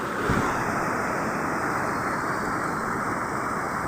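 Steady roar of surf and rushing water with heavy wind buffeting, a continuous wash of noise without pause.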